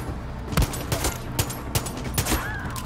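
Rapid bursts of minigun fire from the video game Far Cry 6, loud, close and crackling, with short volleys repeating at an uneven pace.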